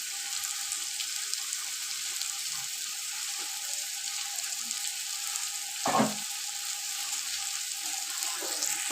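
Potato masala roasting in a pan, a steady broadband sizzle running throughout with a brief louder scrape or clatter near the middle; no talking.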